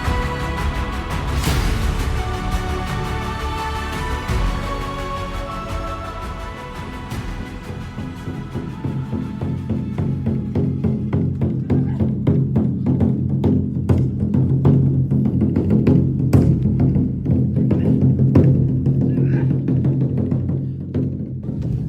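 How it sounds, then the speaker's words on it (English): Rapid, steady taiko drum strikes build into a driving rhythm, following an opening of sustained ringing tones. A drummer performs in front of a gate; the drumming is loud and continuous, with no talking. "That's the sound of a taiko drummer who's performing in front of the gate"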